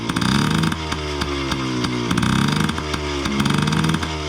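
A cold Yamaha PW50 dirt bike engine with a suspect carburettor idles with a buzzy two-stroke rattle, revving up and sagging back in repeated uneven swells as it bogs down.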